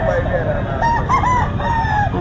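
An 11-month-old stag rooster of the pumpkin sweater line crows twice at close range at a market in Bocaue, Bulacan, loud and drawn out, with some clucking and a voice in the background.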